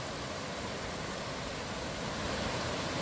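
Broad, steady rushing water of a rain-forest creek fills the whole clip, a continuous close wash with no pauses and no voices.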